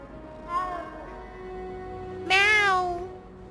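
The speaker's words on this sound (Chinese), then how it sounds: "哇，小猫咪！" A cat in the video game Hogwarts Legacy meows twice, a shorter call first and then a louder, longer, rising-and-falling meow, heard clearly over a quiet steady background hum.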